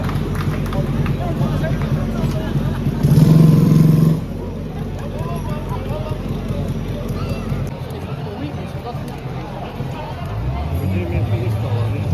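On an evening seaside promenade in Salou, Spain, a motorcycle roars past loudly for about a second amid steady crowd chatter and traffic noise, with someone speaking nearby.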